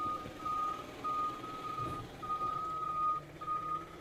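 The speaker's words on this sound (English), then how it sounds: "we just got the dump truck arriving here" A dump truck arriving and backing up sounds a steady series of regular electronic reversing beeps over a low engine rumble, at moderate distance.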